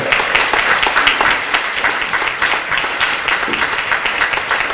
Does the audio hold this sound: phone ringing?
no